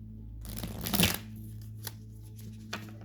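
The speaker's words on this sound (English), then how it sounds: "I'm gonna shuffle this real quick." A quick riffle of tarot cards near the microphone, followed by a couple of light taps and soft clicks over a low background hum.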